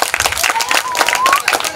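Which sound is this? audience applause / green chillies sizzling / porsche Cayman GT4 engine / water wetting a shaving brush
audience applause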